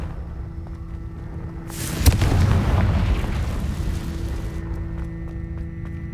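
A Confringo blasting spell explodes in Hogwarts Legacy with a sudden loud boom, then a roaring rumble that lasts a few seconds before settling back into the game's ambient background.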